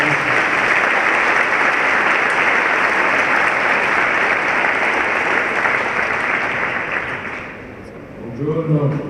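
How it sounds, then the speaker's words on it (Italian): An audience at a talk gives sustained, loud applause, a dense even roar of clapping lasting about eight seconds before tapering off as a voice begins to speak. "ancora un grandissimo applauso"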